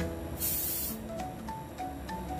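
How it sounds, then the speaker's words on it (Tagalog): A short hissing spray burst from a perfume atomizer, fairly close, followed by quieter faint clinks and light handling noise. "Perfume spray. Ano kayong amoy nito? Spray natin sa hangin."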